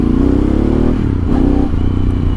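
Kawasaki Z1000R motorcycle with a titanium muffler: loud, close engine roar with the throttle blipped and revs rising and falling over a deep rumble, with no talk.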